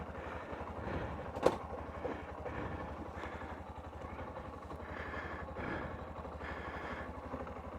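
A Honda CB125F motorcycle fitted with a Yuminashi 120cc fuel injector idles faintly and steadily, its low putter running continuously with a sharp clack partway through.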